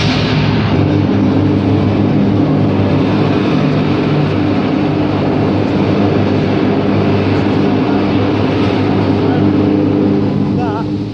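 An electric arc furnace melts cold steel at Magna in Sheffield as electricity arcs between its electrodes, giving a loud, steady, dense roar with a deep rumbling drone that holds unbroken from start to finish.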